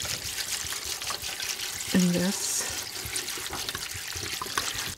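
Water poured into a pot for a tree bark dye bath, a steady splashing trickle running throughout with a brief voice speaking partway through.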